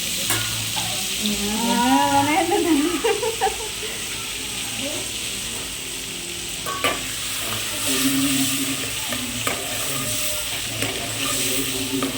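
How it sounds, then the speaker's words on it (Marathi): Amul butter melts into hot oil in a pan while cooking pav bhaji. A continuous frying hiss sits under a voice talking, with occasional stirring knocks. "तेल गरम झालंय. त्यातच थोडंसं बटर टाकते."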